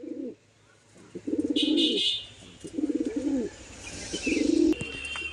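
Kaldam flying pigeons of an old-generation line coo in repeated low, throaty bursts, roughly three close phrases with short pauses between, nearby and fairly loud, with a faint higher chirp in the background and no talking.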